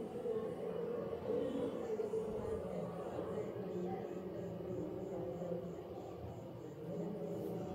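Toy train ride at Nexus Mall in Whitefield, its steady rolling rumble and rail-car clatter running continuously through a busy, echoing mall with crowd noise throughout.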